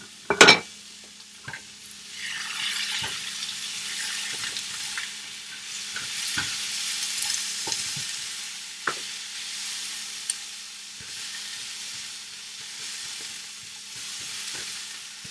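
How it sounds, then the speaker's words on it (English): Hash browns fry in a pan, giving a steady broadband sizzle throughout, with a sharp clatter near the start and occasional stirring scrapes and utensil taps over the constant hiss. "I have put in my nice hash browns in here and we're going to cook them up"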